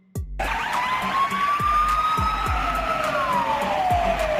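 A Hungarian police car siren starts abruptly and wails loud and close, its pitch sweeping slowly up and down, with a rhythmic low pulse beneath the steady tone.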